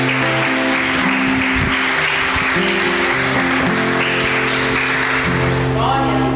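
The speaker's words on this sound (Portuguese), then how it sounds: "Aplauda o Senhor, irmãos," A church congregation claps loudly and steadily at a sermon, while an amplified voice talks over it and sustained music or organ tones carry throughout.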